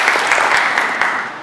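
A church congregation applauds, a dense, steady wash of many hands clapping at once that carries on evenly before tapering slightly at the end.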